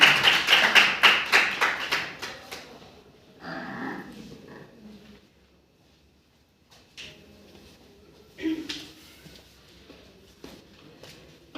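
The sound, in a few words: audience applause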